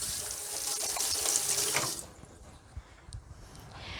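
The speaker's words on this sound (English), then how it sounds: "grab the water, we're going to pour some water in there." Tap water poured into a stock pot holding chicken and chicken feet gives a steady, bright rush for about two seconds, then stops, leaving faint drips and quiet handling noise.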